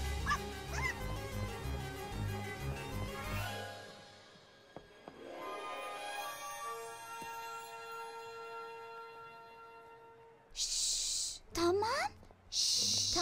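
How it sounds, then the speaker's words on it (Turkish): Puppy barking in a Polly Pocket cartoon, short yips at the start, then a quieter stretch with music and a few loud bursts near the end, alongside other cartoon sounds. "Yavru köpek orada."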